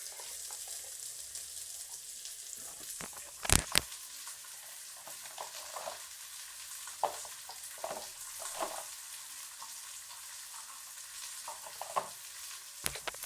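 Onions sizzle and fry in a pan with a steady, quiet crackle, broken by a few sharp stirring clatters and scrapes.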